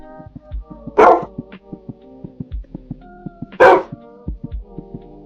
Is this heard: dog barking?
yes